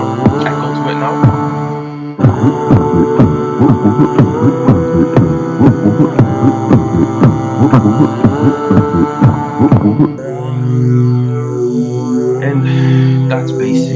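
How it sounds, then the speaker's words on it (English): Vocal beatboxing with an added echo effect lays punchy, rhythmic mouth percussion over a humming tone, each hit trailing into reverberation. The pattern drops out near the end, leaving a sustained hum. "Can you see the beatboxing has a lot more echo to it now?"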